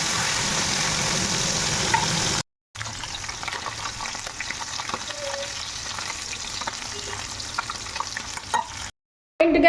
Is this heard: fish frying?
yes